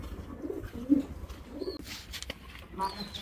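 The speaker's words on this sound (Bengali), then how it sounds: "আপনাদেরকে আমি কবুতরগুলি দেখাই এক এক করে" Pigeons in a racing pigeon loft give low, soft cooing calls in short bursts, with a few faint higher chirps, set against steady background noise and people talking nearby.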